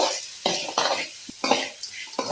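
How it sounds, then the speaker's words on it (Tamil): Onion and tomato sauté for chutney in a pan, with a steady sizzle under repeated scraping stirs of a spoon every half second or so, close up. "தக்காளி போட்டு நல்லா வதக்கியாச்சு"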